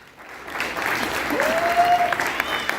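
An audience claps for school music performers at an Amity International School class presentation, a steady wash of applause that swells and carries on for a few seconds, with a brief tonal squeal riding over it.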